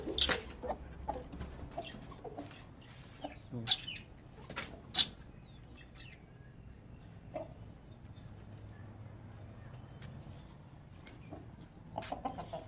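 A hen waking up among pigeons, rabbits and chicks at feeding time, giving a few soft close clucks and scattered sharp calls with brief rustling, some faint background noise between them.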